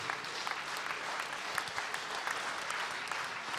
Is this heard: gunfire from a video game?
no